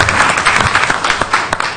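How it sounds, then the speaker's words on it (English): Audience applause at a city council regular meeting, a short, dense burst of many hands clapping, steady and fairly loud, with no voices on top. "Give him a round of applause."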